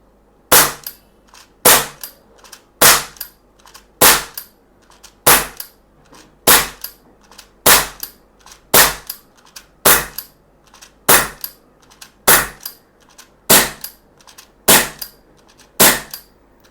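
A rapid series of about twenty sharp pops from a SIG Sauer P320 CO2 .177 pellet air pistol, evenly spaced under a second apart, crisp and close with no voices.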